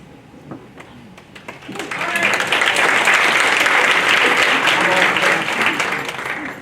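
Applause from an audience at a legislative update meeting: scattered claps at first, then swelling into a loud, sustained round of clapping that holds steady before easing slightly at the end.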